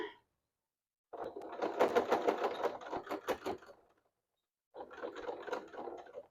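Sewing machine stitching a bag, close and quiet, with a fast even mechanical whir in two runs, a longer one then a shorter one after a pause, with near silence between.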